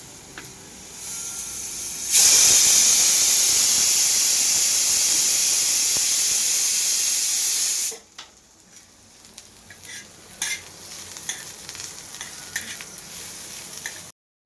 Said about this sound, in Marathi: आता आपण कांदा भाजून घेऊया. कांदा पण आपण मस्त गोल्डन ब्राऊन करणार आहोत